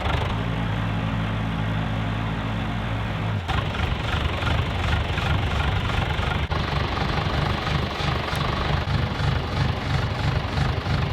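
A tractor engine idles in a low, steady chug while lifting a load on the back, with a shift in its rumble partway through and clattering knocks after that.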